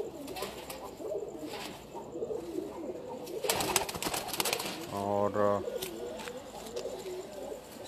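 A golden pigeon on a rooftop gives a single low, close coo lasting about a second, set against rustling and faint background noise, with a few spoken words nearby.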